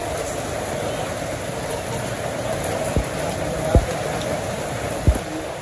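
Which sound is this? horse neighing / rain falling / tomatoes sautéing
rain falling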